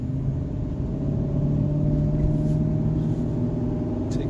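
A Chevy 3500 pickup truck's engine drones steadily with a low rumble and rattling vibration as it drives over a bumpy road. The sound is heard from close inside.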